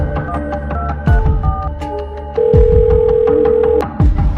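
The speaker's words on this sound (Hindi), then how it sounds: "लाइनमैन साहब के फोन लगाऊं" A telephone being dialled in a rural Malwa village home, with a run of short dial beeps, a steady tone held for over a second, then more beeps, loud and close.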